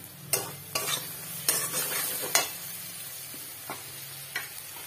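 Garlic, ginger and spices fry in a pan with a faint sizzle, cut by several sharp spatula taps and scrapes against the metal at uneven intervals.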